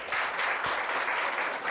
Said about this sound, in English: let's give a loud lot of applause for sir